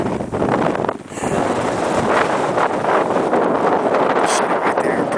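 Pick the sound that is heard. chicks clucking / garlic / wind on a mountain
wind on a mountain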